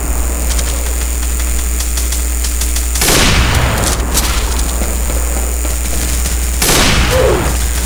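Sniper gunfire in the Roblox shooter Weaponry: two sharp, booming shots a few seconds apart, each with a short rumbling tail, over a steady loud engine-like game hum.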